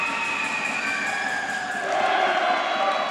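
A home crowd cheers steadily at a high school girls' basketball game in a gym, a broad sustained roar with whistles and shouts rising slightly toward the end.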